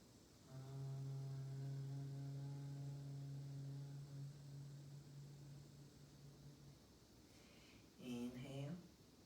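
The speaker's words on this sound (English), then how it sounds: "And exhale, hum." One person hums a long, steady, low tone on the exhale during Bhramari bee breathing. The close, rich drone holds for about six seconds, then a short wavering vocal sound follows after a pause.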